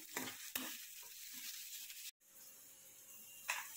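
Soaked poha is tipped into a frying pan and stirred, giving a soft steady sizzle broken by a few scraping stirs and a brief gap.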